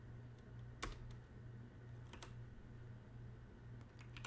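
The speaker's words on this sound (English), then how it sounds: "So to do it, you just basically type" Typing on a computer keyboard, a few faint, scattered key clicks over a low steady hum.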